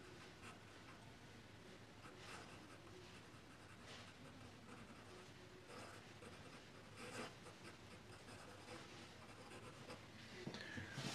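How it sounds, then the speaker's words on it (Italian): Fine F-nib fountain pen scratching and gliding across paper in a quiet room, a close, steady rasp of continuous strokes with brief louder scrapes, with no speech. "è sempre bello scrivere con questa penna"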